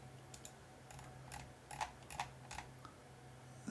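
Typing commands on a computer keyboard while configuring a router, a quiet irregular run of key clicks and taps, no talking.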